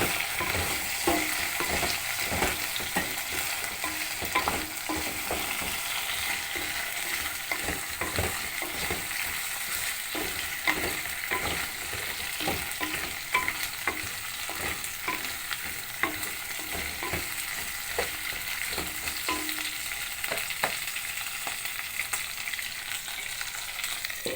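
Meat frying and being stirred in a pot while cooking a Somali pasta-and-rice dish, a steady sizzle with repeated scraping stirs running throughout, close and fairly loud.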